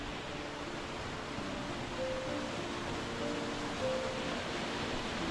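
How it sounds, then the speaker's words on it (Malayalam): Steady rushing water pours without a break, a dense, even roar of a small snowmelt-fed roadside waterfall in Ladakh heard from close by. "റോഡ് സൈഡിൽ തന്നെയുള്ള ഒരു ചെറിയ വാട്ടർഫോൾ"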